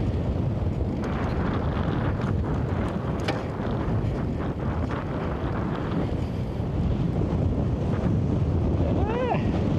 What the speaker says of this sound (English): There's the headwind. Probably when I come around this bend up here, it's gonna get real gusty.